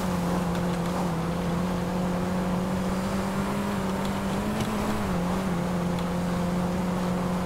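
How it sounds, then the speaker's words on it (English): A Panto car engine in GTA5 drones steadily under load as it accelerates uphill, its pitch rising and dipping slightly, loud and close, with no other sounds over it. "Pushing down on the gas, aiming it uphill."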